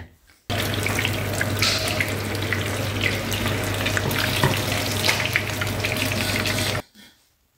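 Fish frying in hot cooking oil in a home kitchen pan, a dense, steady sizzle with fine crackles, close and fairly loud, starting abruptly and cutting off after about six seconds.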